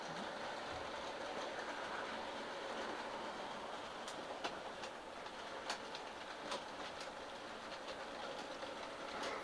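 A Bachmann N scale model train, a Pennsylvania Broadway Limited set, runs along its track with a steady, quiet whirring hum and faint clicking over the rails, heard alone without talk.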